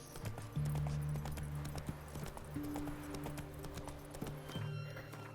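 Hooves of Roach, the horse in the Witcher 3 game, clip-clop in a quick, regular rhythm close by, over a low sustained musical drone, with a brief whinny mixed in.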